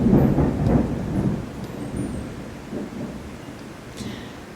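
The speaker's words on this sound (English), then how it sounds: "I hope the thunder isn't getting caught in my mic because it is thunder" A thunderstorm rumbles with low, rolling thunder that is loudest at the start and then fades to a softer grumble, while light rain patters faintly in the background.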